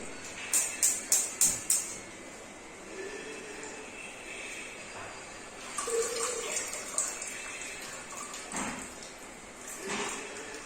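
Tamarind squeezed by hand and its water poured for Kerala idicha rasam: a quick run of sharp wet clicks, then soft splashing and trickling bursts close by, with no talking.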